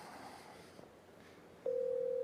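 An outgoing call placed from a command-line shell begins ringing, a steady electronic ringback tone that starts abruptly after a moment of faint room noise and holds evenly to the end.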